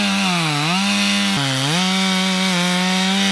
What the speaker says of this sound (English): make it, and do my plunge cut. So here we go.